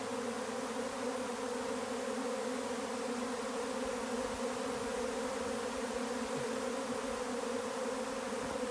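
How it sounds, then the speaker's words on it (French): A honeybee swarm circles an oak tree near the ground, making a dense, steady buzzing drone that stays loud and unbroken throughout, with no voices. "l'essaim s'est déplacé de quelques mètres. Il se rapproche un peu du sol, il tourne autour de cet arbre"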